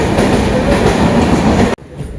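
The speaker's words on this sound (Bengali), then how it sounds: "বেরিয়ে যাচ্ছে 12073 ডাউন মালদা হাওড়া এক্সপ্রেস।" The 12073 Malda–Howrah Express roars loudly past at close range as it departs, with rattling wheels, then the noise cuts off abruptly, leaving a quieter background.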